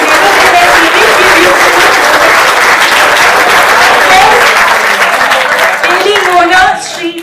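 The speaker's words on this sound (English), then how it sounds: "Please give a big round of applause." Loud, dense applause from an audience at a graduation ceremony for tax inspector trainees fills the space, steady for several seconds before thinning out at the end.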